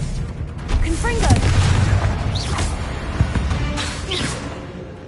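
Booming blasts of the explosive Bombarda and Confringo spells in Hogwarts Legacy, a couple of heavy thuds rolling under a voice shouting incantations.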